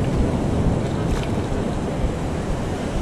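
Ocean surf washes up on a beach at Daytona, a steady loud rush of water mixed with heavy wind buffeting the microphone.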